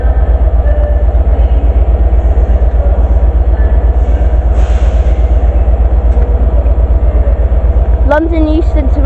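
Locomotive 67015 works a train at Crewe station on the West Coast Main Line, giving a loud, steady low diesel throb and rumble close by, with a brief higher whine near the end.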